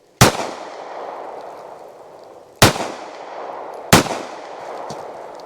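Three sharp, loud gunshots from a Smith & Wesson Bodyguard 2.0 pistol firing solid copper expander rounds at an outdoor range, evenly spaced about 1.5 seconds apart, each followed by a short decaying echo.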